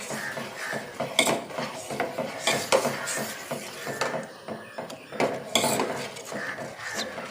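A spoon clinks and scrapes against a metal pot while stirring sugar into tea over a low flame, in irregular bursts of close, fairly quiet metallic taps and rattles.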